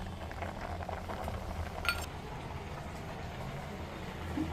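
A pot of Tamil Nadu style moong dal kootu with fresh coconut bubbles at a steady, quiet boil, with a constant soft gurgle and no voices.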